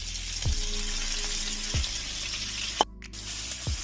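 Red onions sautéing in a pan for steak and gravy, with a steady hiss of frying and a few dull knocks of a utensil against the pan.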